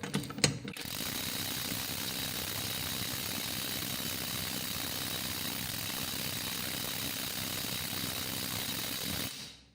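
A PATUOPRO 500NM cordless impact wrench loosening bolts runs as one long, loud, steady mechanical rattle lasting nearly ten seconds after a couple of brief clicks, then cuts off abruptly.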